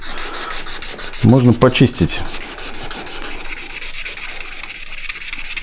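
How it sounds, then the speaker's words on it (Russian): A 3M ultra fine sanding sponge rubs steadily over a photo-etched metal fuel tank part for a tank model, making a continuous rhythmic scratching that runs throughout, with someone briefly speaking near the start. "его можно обработать мелкой наждачкой. В данном случае вот есть такая губочка 3M-овская, ультра файн."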